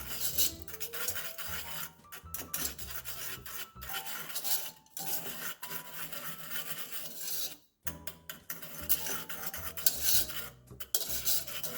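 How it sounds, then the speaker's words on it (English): Dry ingredients with xanthan gum being mixed in a bowl for a low carb sweet and sour chicken: continuous close, gritty scraping and rasping of a utensil against the bowl, with brief pauses, and no talking. "I'm going to go ahead and give these a mix just to make sure that everything is well incorporated, particularly that xantham gum."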